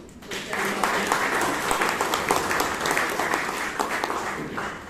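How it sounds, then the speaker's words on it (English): A round of applause at a Toastmasters club meeting in Bangalore, continuous clapping from the gathered members, fairly loud and even throughout with a possible voice underneath. "we should give a good round of applause"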